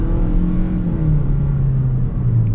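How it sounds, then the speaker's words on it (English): A 2025 Toyota Corolla FX with a 2-liter engine and CVT accelerates steadily, its engine drone rising smoothly in pitch over a couple of seconds, loud and close without talk. "So acceleration is normal with the 2-liter with the CVT."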